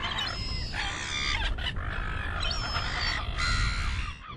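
Harsh, raucous seagull calls overlap against a rushing outdoor background, several birds crying repeatedly at moderate distance.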